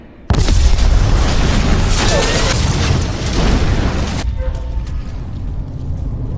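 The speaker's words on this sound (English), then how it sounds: "As a result of the explosion, Anders was killed instantly" A sudden loud car bomb explosion booms and roars for several seconds, then cuts to a quieter rumbling aftermath.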